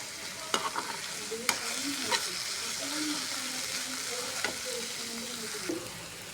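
Chopped onion frying in hot oil with popped mustard seeds and cumin, a steady close sizzle with a few sharp stirring clanks of a spoon against the pan.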